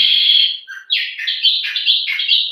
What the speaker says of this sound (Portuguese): O passarinho está cantando.